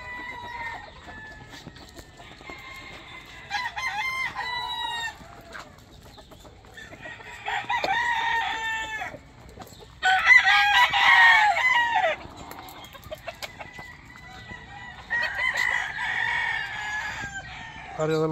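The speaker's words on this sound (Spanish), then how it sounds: "Es un gallo en cuido." Roosters crow repeatedly in bursts on a farm, loud and fairly close, with clucking fowl and faint ambient noise between the calls.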